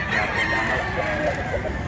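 A rooster crows at close range on a rural farm in Mantalungon, Barili, Cebu, amid steady outdoor background noise, with no voices over it.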